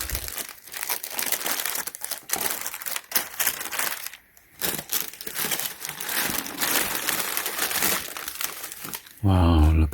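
Tissue paper crinkles loudly and continuously as a Nike Jordan 4 Retro A Ma Maniere Violet Ore shoe box is unboxed, close rustling bursts with a brief pause midway, ending in a sharp louder rustle.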